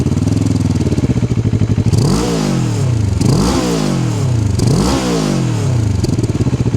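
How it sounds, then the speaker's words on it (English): A Moto Morini Calibro Bagger with a single-sided exhaust revs loudly up close, three sharp throttle blips rising and falling over a steady idle, with no voices. "You've got a single-sided exhaust. It's not on both sides, just one, but we need to have a little cheeky listen."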